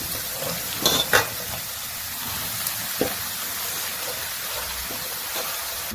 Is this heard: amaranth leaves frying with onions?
yes